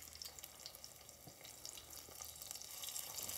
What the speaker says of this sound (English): we have very, very hot pan and oil in it, and we're gonna put those little round things in here.